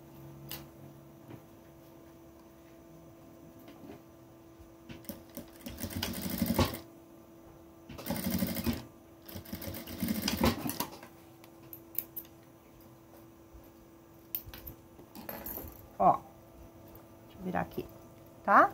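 A sewing machine stitches a one-centimetre seam on a half-moon fabric pouch in several short bursts of fast whirring stitches, separated by pauses filled with quiet ticks and handling sounds while someone talks over the work.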